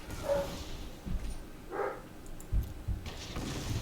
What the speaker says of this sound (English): Oh, that sounds like the dogs.